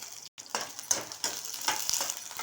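Onions drop into hot oil in a pan for peanut chutney and start to sizzle, with a brief silent gap before a bright crackling fry and a few stirring scrapes.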